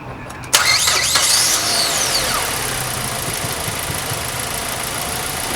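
A car's engine cranks and fires after an air intake sensor install, catching abruptly and settling into a steady mid-pitched idle with a faint knock.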